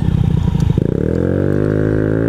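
A Honda Ruckus scooter engine runs close by, a rough chugging idle that smooths into a steady, rising hum as it pulls away while riding.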